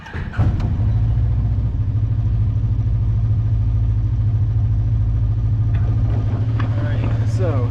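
A Kawasaki KRX side-by-side engine idles high, just under 2000 RPM, while an idle fault is being fixed, a loud steady drone with a low hum and faint clatter, with people talking briefly at the start and end.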